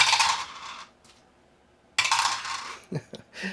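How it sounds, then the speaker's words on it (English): Defense dice for the Spartacus board game are rolled, making two close bursts of clattering, clinking rattles with a brief pause between and a few small knocks as the dice settle. "Then the defender will roll their defense dice."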